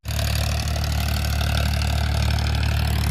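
A Farmtrac 45 tractor with double clutch and multi-speed PTO rumbles at a steady idle, its low diesel throb close and continuous after a quick start-up.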